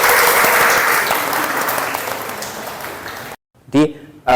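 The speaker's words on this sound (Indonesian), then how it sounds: "Kasih tepuk tangan." An audience claps together at a university teaching session, a dense sustained burst of applause that fades slightly before cutting off, followed by a moment of silence and a voice starting to speak.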